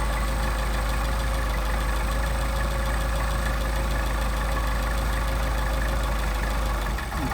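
A Mercedes 190SL engine idles while its Solex carburetor is being adjusted, giving a steady, close rumbling idle that runs evenly throughout and dips briefly just before the end.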